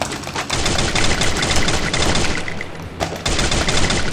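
Gunfire in the Free Fire video game pours out in a dense, continuous automatic burst, loud and close, with only a brief dip before the shooting resumes.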